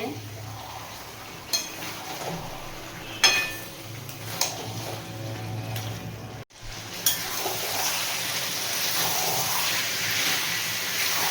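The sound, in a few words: chicken being stir-fried in a pan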